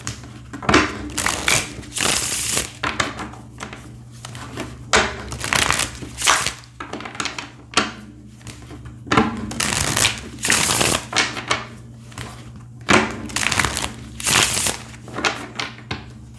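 Repeated bursts of a tarot card deck being riffled and shuffled, a steady rhythm of crisp flurries with short pauses between, close and clear.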